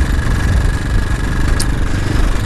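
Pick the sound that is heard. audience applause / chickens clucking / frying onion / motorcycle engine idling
motorcycle engine idling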